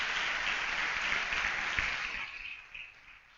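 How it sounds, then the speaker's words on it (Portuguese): Applause from a church congregation fills the room, a dense steady patter that holds for a couple of seconds and then thins and fades out. "dá um aplauso a ele"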